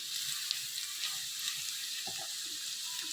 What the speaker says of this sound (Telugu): ఈ ఉల్లిపాయ ముక్కలు గోల్డ్ కలర్ వచ్చే వరకు వేయించుకుందాం.